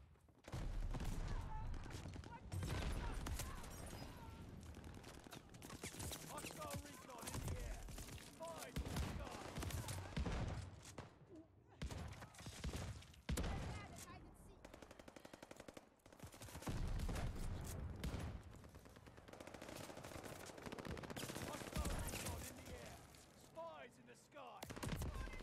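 Rapid gunfire from the Call of Duty Vanguard video game on the Shipment map, with dense bursts of shots and booms running almost continuously over the whole stretch, loud and close, while a player talks throughout.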